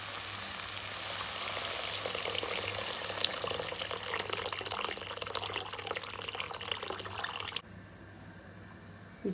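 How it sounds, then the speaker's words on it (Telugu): Water is poured into a hot pan of tomato upma, sending up a loud, bubbling sizzle and splash that runs steadily for several seconds, then drops abruptly to a quieter simmer. "నీళ్ళు, అంటే మనము చేసుకునే క్వాంటిటీని బట్టి వాటర్ వేసుకోవాలి."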